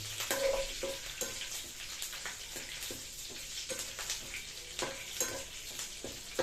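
Lentils and peanuts fry in hot oil as a tempering for chutney, a soft continuous sizzle broken by scattered crackles and the scrape of a spoon stirring the pan, fairly quiet and with nobody speaking.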